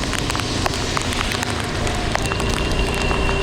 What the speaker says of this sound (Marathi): पाऊस पण मस्त पडते